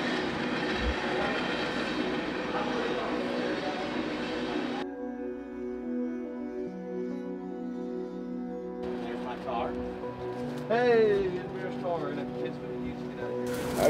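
A train rumbles past with a low steady drone and faint squeals, while people talk nearby.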